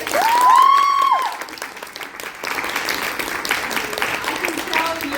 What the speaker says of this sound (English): Big round of applause for Claire.